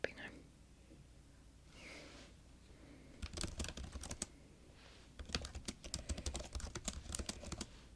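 Fingers tap on a computer keyboard in short bursts, with a quick flurry of keystrokes followed by a longer, denser run, close and crisp, alongside soft whispered speech.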